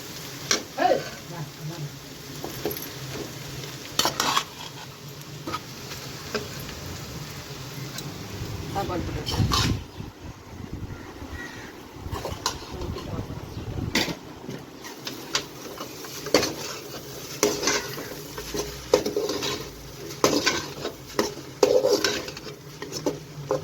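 Egg is stirred in a pan as it cooks, with gentle sizzling and repeated scrapes and taps of a utensil against the pan coming in irregular bursts over about twenty seconds.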